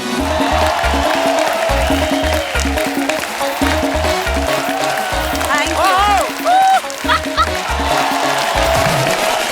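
On the Kapil Sharma Show, a studio audience gives dense, sustained applause to welcome a guest, mixed with a thumping music beat and a brief voice partway through.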